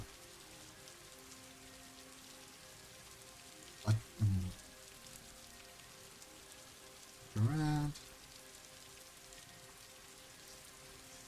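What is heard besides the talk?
rain in video game Daggerfall Unity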